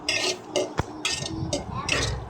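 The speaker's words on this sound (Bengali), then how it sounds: "মশলাগুলো একটু কষিয়ে নিব।" Spices being stirred and fried in a pan for a rui fish curry, with a utensil scraping and clinking against the pan in short repeated strokes over a soft sizzle.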